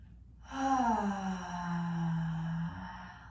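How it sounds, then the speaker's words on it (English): Deep guided breath during a gentle beginner's yoga session, a single long exhale rising strongly then trailing off steadily, close and fairly quiet with a hollow, sighing quality. "A couple more of those nice big exhales"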